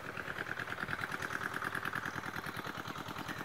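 A motorcycle engine running steadily close by on a farm, a continuous mid-pitched putter with fast regular pulses and a brighter whine above, holding even for the whole stretch with no talk.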